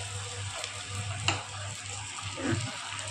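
Kudal (intestine) curry masala stirred in a pan, a soft continuous sizzle with a few scraping strokes and a low hum beneath, close and moderately quiet.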